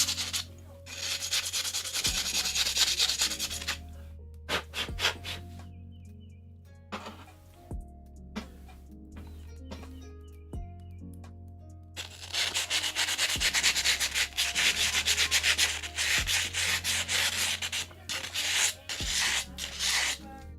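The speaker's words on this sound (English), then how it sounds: "I'm using some 220 sandpaper to take the burrs off" Wood being hand-sanded with 220-grit sandpaper to knock off burrs, a steady close rasping rub in long bursts with brief pauses and faint background tones in the gaps.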